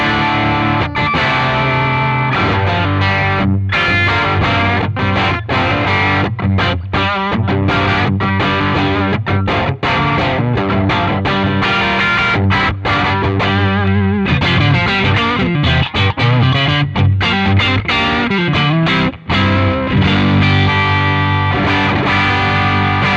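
Heavily distorted electric guitar through a 25-watt Boss Waza Craft tube amp, driven hard for a dirty British rock tone, plays continuous loud chords and riffs with effects coloring, alone with no talk.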